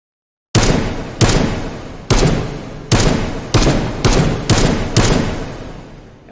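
Eight single gunshots fired one at a time in the H3VR virtual reality shooting game, each a loud sharp crack with a short decaying tail, spaced unevenly about half a second to a second apart, no voices.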